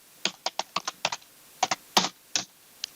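Password typed on a computer keyboard while setting sheet protection in an Excel spreadsheet: about a dozen crisp, close key clicks in short irregular bursts, with no talk.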